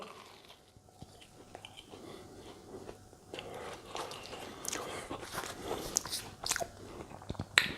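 Biting into a crunchy fried Japanese croquette (korokke), with crisp crunches and chewing growing louder and closer toward the end, after quieter rustling.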